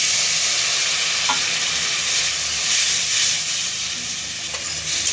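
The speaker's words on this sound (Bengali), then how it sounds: "আর স্বাদ মতো লবণ দিয়ে খুব ভালোভাবে নাড়িয়ে নেব।" Spices with salt, turmeric and a splash of water stirred in a hot pan for an egg curry, giving a continuous sizzling hiss with a couple of faint utensil scrapes. No voices.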